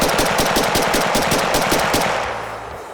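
Rapid semi-automatic fire from a Chinese AK-47 variant rifle, a fast, loud, evenly spaced string of sharp shots with no talking, ending in a fading echo after the last round.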